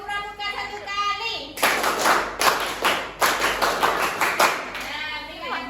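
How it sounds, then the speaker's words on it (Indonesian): Children doing a rhythmic scout clap in a classroom, a burst of quick, sharp claps in patterned groups lasting a few seconds, with voices heard before and after. "Tepuk pramuka 1 kali."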